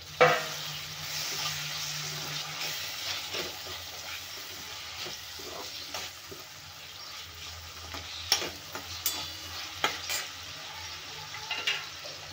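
Tomatoes are stirred into a pan for a potato and puri dish and fry with a soft, steady sizzle, while a spoon scrapes and taps the pan now and then.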